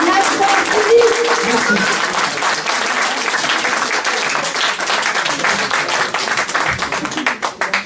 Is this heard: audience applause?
yes